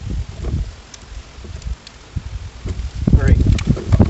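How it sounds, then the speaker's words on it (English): Outdoor wind gusting against the microphone at an electrical panel and meter socket install site, low buffeting rumbles rising and falling, stronger near the end, with a voice briefly over it. "This wind, if it dies down, we'll be a lot better off."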